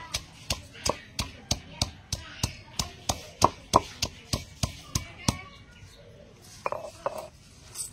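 Green leaves are pounded to extract juice: a steady series of about sixteen sharp, evenly spaced thuds close by, then a few softer irregular knocks, with faint birdsong in the background.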